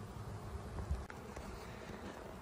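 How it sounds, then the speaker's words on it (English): A swarm of bees high in a tree line gives a faint, steady outdoor drone, distant and low, with light wind noise and no talk. "there's a bunch of bees right there, right at the top of the tree line"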